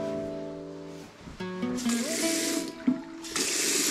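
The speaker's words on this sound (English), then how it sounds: "Water." Water running from a tap, likely into a sink or basin, with a steady rushing hiss that surges louder partway through and carries a faint humming tone underneath.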